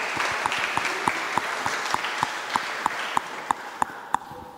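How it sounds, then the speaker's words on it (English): Audience applause at the opening ceremony of the Oxford Blockchain Conference, a steady crowd clapping bed with one pair of hands clapping sharply and close in an even, regular beat over it. "Please give a round of applause."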